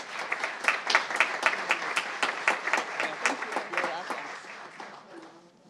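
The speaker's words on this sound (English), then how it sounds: "Let's give her a big round of applause." A public meeting audience applauds a student being honoured, a dense run of clapping that holds steady, then thins and fades out toward the end.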